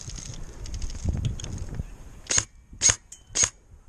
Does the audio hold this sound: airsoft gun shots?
yes